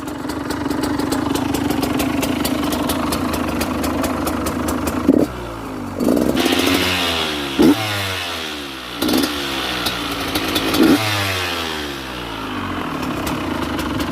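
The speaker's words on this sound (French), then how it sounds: "on va chauffer la bécane, on va chauffer la bête" A motorcycle warms up before wheelie practice. Its engine idles with a steady close rumble, then gives several sharp revs in a row, each one rising and falling back toward idle.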